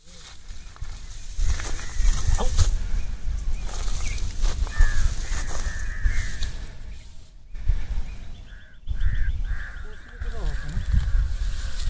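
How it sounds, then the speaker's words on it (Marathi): Several birds call loudly and harshly in repeated bursts, overlapping at times, over outdoor wind and background noise. "कावळ्यांचा कालवा बघ"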